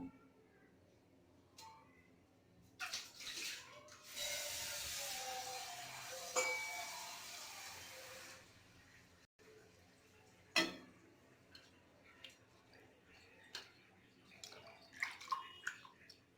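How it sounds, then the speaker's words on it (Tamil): Water is poured out of a vessel after washing hibiscus flowers, making a steady splashing stream for several seconds amid small drips, clinks and quiet handling sounds. "இந்த தண்ணி கீழே ஊற்றிட்டு இன்னொரு வாட்டி இதை வாஷ் பண்ணி எடுத்துக்கலாம்"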